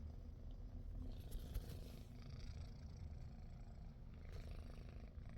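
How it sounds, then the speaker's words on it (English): A cat's very faint, low continuous purr rumbling steadily throughout, quiet and close, with no other sounds standing out. "She's purring right now"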